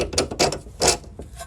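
A nut on a Mercedes E550 air strut is turned by hand, giving a few quick ratcheting metallic clicks and scrapes in short bursts, close up and moderately loud.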